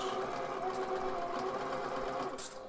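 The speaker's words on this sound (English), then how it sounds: "machine setting back down to regular stitch because I don't want a top stitch" A domestic sewing machine runs a tight regular stitch along the edge of a cloth face mask, a steady close mechanical whir that tapers off at the end.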